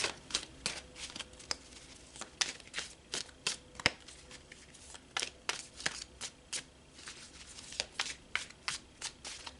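Rapid riffling bursts of a deck of cards being shuffled, repeated many times in quick succession, close and crisp with no talking.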